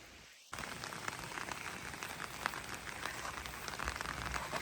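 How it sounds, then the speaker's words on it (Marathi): After a brief quiet moment, light rain begins pattering steadily on a surface outside a mountain log cabin in North Carolina, a soft, continuous spray of drops with no talking. "थोडासा पाऊस पडतोय"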